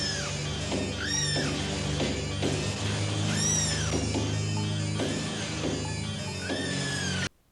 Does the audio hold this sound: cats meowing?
yes